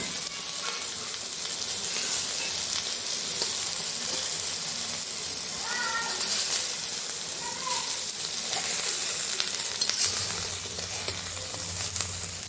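An egg omelette sizzles steadily in a frying pan, a continuous close hiss of hot oil running throughout with a few faint clinks from cutting in the pan.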